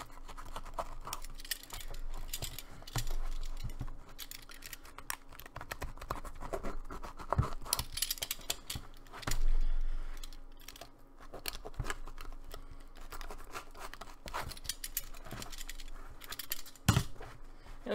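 Scissors cutting into a Flexfoam head around the cheek, working toward the eyes and a previously cut mouth opening, give a close run of snipping, scratching and crunching foam sounds, irregular and continuous, with no talking.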